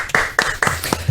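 A handful of people clapping in a radio studio, four or five sharp, close, evenly spaced claps within about a second, loud and alone with no talk over them.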